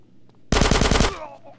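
Machine gun suppressing fire in GTA San Andreas, a loud close burst of rapid repeated shots lasting about half a second, then a ringing decay.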